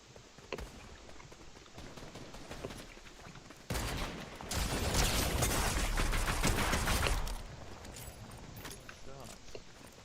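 Gunshots in the video game Fortnite erupt into a loud, rapid burst of gunfire lasting several seconds, framed by quieter stretches of gameplay with players talking.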